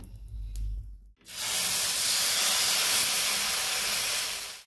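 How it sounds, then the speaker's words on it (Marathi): Oil hitting a hot pan for green moong sprout dosa: after a brief low clatter, a loud, dense, close sizzle bursts in and holds steady for several seconds before cutting off, with no talk. "आता पॅन गरम झालाय, आता थोडंसं तेल टाकून घेऊया।"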